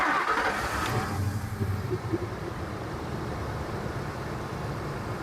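A Ford car engine is restarted with the key: a brief cranking burst, then a steady, loud running rumble. The car has an A/C compressor that won't engage properly and a misfire fault.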